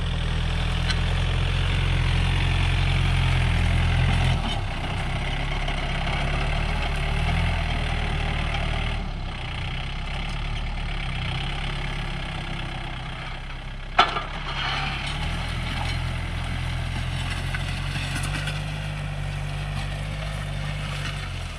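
A tractor engine runs steadily while ploughing a farm field in the Philippine countryside, a low continuous drone at moderate distance that dips slightly midway, with one brief knock near the end.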